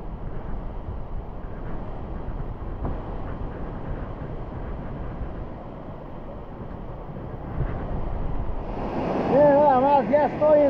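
Water rushes continuously at the Tamasopo waterfall in the Huasteca Potosina of Mexico, a broad steady roar mixed with wind buffeting the microphone, with a voice briefly rising near the end.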